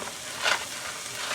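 Pork browning in a hot pan gives a steady, close sizzling hiss, with one brief louder crackle near the middle.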